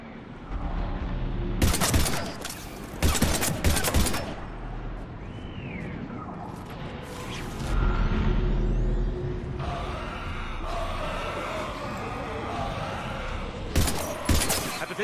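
Loud, clustered gunfire bursts in a Mass Effect 3 firefight, arriving in sharp volleys with quieter stretches of combat noise between them and a voice briefly heard.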